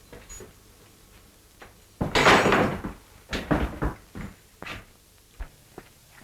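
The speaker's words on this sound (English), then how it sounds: "Get that door open." A door is opened in an old western film scene: a heavy clunk and wooden rattle, followed by a few more knocks and bumps at moderate distance against a quiet background.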